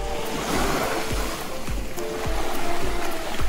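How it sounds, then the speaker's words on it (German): Waves surge and wash onto a Black Sea beach at Burgas, Bulgaria, in a close, loud rush of surf with repeated splashing crests and some wind buffeting, no voices. "Bums, da kommt eine Welle und dann war die Hose nass."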